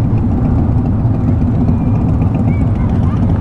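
Harley-Davidson motorcycle engine rumbling nearby on a road trip through Bicol, a loud steady low throb with continuous idling-like drone, heard alongside traffic noise.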